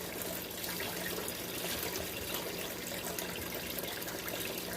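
Water runs steadily across a Miller gold table as the concentrate is swept and stirred, a constant close rushing splash with no talking.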